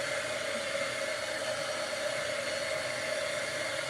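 A hair dryer blows on a paper craft project, a constant loud whooshing whir with a steady tonal hum, running alone and unbroken throughout.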